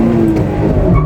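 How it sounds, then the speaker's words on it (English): A Honda VTEC car engine's exhaust roars loudly and steadily up close, a deep rumbling note. "the exhaust note of this vehicle."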